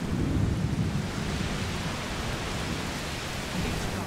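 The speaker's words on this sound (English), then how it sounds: "It's just a storm. Thunder." A thunderstorm in the video game A Plague Tale: Requiem gives a heavy, steady roar of rain with low rolling thunder, loudest at the start and swelling again near the end.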